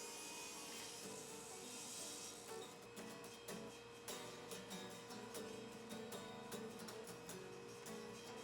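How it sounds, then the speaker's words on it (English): Maple box pieces being cross-cut to final length for a mid-century modern kids' bookshelf, heard as a quiet, steady stream of rasping saw strokes through wood, rhythmic and continuous, with faint rubbing texture throughout. "After I cross-cut the box pieces to their final lengths"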